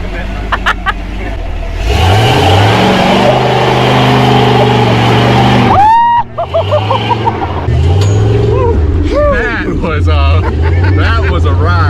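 A custom-built Jeep climbs an off-road trail, its engine revving hard in rising and falling surges that stay loud and close, while people talk over the noise.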